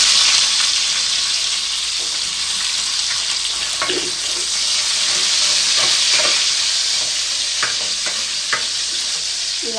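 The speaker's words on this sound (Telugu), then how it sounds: "ఇప్పుడు ఏంటంటే ముందు కట్ చేసి పెట్టిన ఉల్లిపాయలు వేద్దాం" Chopped onions frying in a pan with curry leaves, a loud, hissing sizzle throughout with intermittent scrapes and taps of a spoon, close and without speech.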